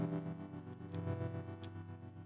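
Sustained, distorted synth chords pulse with a wavering tremolo, a dense, steady electronic texture with no voices.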